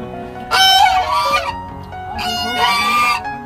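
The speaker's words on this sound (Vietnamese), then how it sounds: "Ngỗng này của ai hả?" Geese honk loudly and close by in two separate bursts of harsh, nasal calls, heard in a flooded rural countryside with no one talking.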